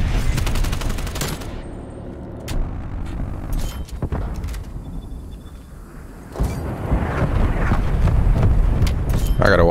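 Black Ops Cold War gameplay with a gunship strike and a grenade: rapid bursts of gunfire and heavy explosion crackle, loud and dense, with someone talking over the action.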